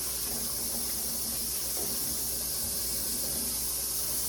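Hot water runs steadily from a tap into a sink, a continuous broadband hiss and splash with no pauses and no talking.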